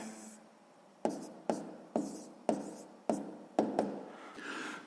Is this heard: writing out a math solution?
yes